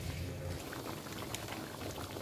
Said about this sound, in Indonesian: Biarkan dia mendidih, jangan lupa diaduk sesekali.